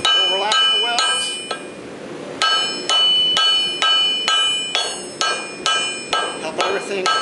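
A hammer strikes a hot welded-wire bar on an anvil in roughly a dozen sharp, ringing, metallic blows at a steady rhythm while the bar is forge-welded into a blade billet.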